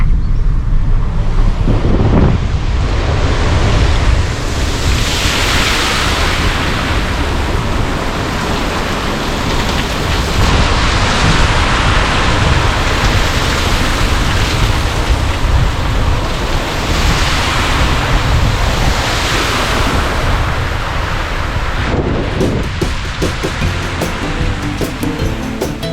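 Water from the Weeping Wall on Montana's Going-to-the-Sun Road cascades onto the roadway, a loud, continuous rushing hiss heard from a passing vehicle, with wind buffeting throughout and no talk.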